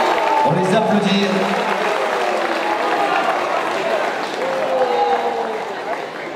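After a draw at a boxing gala in Orthez, the crowd keeps applauding the boxers, a continuous dense clatter of clapping blended with crowd voices that fades slightly toward the close.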